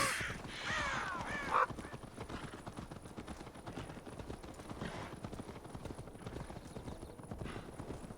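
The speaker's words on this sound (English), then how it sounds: "So many birds." A burst of cawing crows opens the scene in Assassin's Creed Valhalla, then fades, leaving a horse's hooves clip-clopping steadily at moderate volume.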